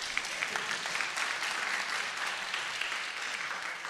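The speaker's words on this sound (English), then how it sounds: "And so if you guys can give her a round of applause." Applause from a church congregation at a traditional Sunday service, a steady wash of many hands clapping close by for the full few seconds, with no talking over it.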